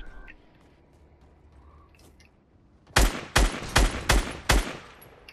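Video-game gunfire rings out in a burst of five sharp, loud shots at an even pace, following a stretch of quiet background and faint voices.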